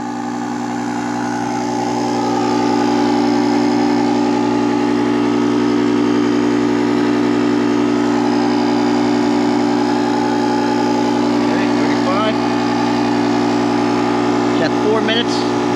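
JOMGAND 3750A portable 150 PSI air compressor inflating a tire: loud, steady, close mechanical drone throughout, with faint squeaks near the end.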